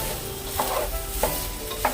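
Pure butter ghee sizzling in a pan for pulao, a steady close crackle with a few sharp stirring scrapes at regular intervals, no talking.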